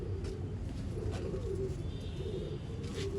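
Soft, low cooing from old line pigeons, a gentle rolling murmur repeating over a steady background hum, fairly faint and close.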